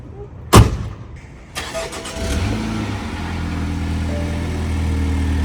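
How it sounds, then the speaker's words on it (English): A sharp click, then a 2021 BMW X1 engine cranks and catches after an oil change in a parking lot, settling into a steady low idle close by. "We're just gonna close the cap here and then turn on the car"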